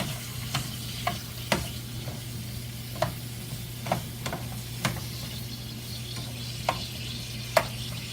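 Fried cabbage, potatoes and sausage being stirred in a pan, with a spoon scraping and clacking in a steady series of sharp knocks over a constant low sizzling hum, close and alone.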